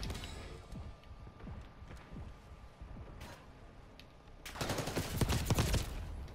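Gunfire in the Black Ops 6 video game: scattered shots and mechanical clicks, then a louder burst of rapid fire near the end.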